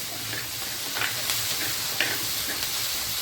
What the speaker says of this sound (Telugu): అందులో అరపావిడి నూనె పోసుకున్నాం. ఉల్లిగడ్డలు, కళ్యామాకు, మెంతి, కొత్తిమీర, మెంతి, పుదీనా దూరగా కొలియాలి.